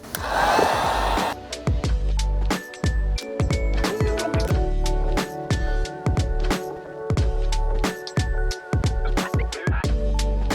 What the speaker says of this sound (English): grab your heat gun and start applying heat on this edge